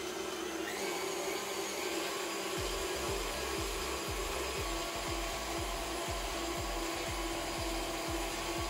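A KitchenAid Artisan stand mixer whisks crème fraîche at speed 4, a steady motor whine with rhythmic low thumps from the whisk beating the bowl, close and continuous, no voices.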